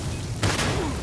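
Incendiary mines going off in Starfield make a sudden broad blast near the middle, followed by a sustained roaring burn and a second surge, with a low rumble throughout.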